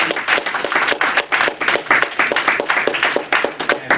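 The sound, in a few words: audience applause for the local minister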